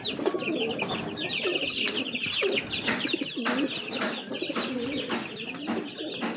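Chickens, cockerels and chicks let out of a coop fill the air with steady clucking, cooing and peeping, a busy, close flock sound that continues without a break.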